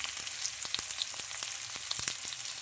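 Onion and garlic for pansit gisado sizzle and fry in a pan, a steady close hiss of hot oil broken by faint scattered ticks and pops, with no talk.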